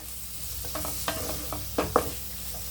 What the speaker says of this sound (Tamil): இது வதங்கட்டும் ஒரு அஞ்சு நிமிஷம் அப்படியே நம்ம வதக்க விட்டுடலாம்